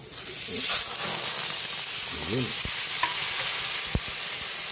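Pork frying in a pan with onion for pork batsoy, a steady sizzle and hiss broken by scraping stir strokes and a few sharp clinks of the utensil against the pan.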